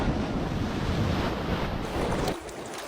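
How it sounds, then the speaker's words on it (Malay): Strong surf rolling in at a beach on Tioman Island, a broad continuous wash of waves mixed with wind buffeting the microphone, loud throughout and easing slightly near the end. "Masa ni ombak agak kuat, so bergalun-galun airnya."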